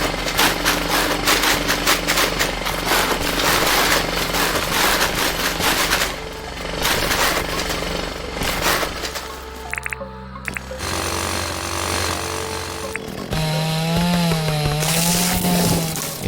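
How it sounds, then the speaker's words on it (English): Power tools in the video game Dinkum, including a chainsaw, roar loud and buzzing through continuous cutting, shifting into grinding and whirring tones with a wavering motor pitch near the end, with no talking. "getting all of my money's worth from all of the power tools right now"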